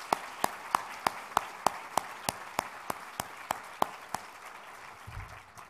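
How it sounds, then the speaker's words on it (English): Sparse, evenly spaced claps ring out in a conference hall for opening performers at a mentoring summit, a single clear clapper or a small thin group, steady sharp hits that fade out near the end. "So I want to give them another round of applause"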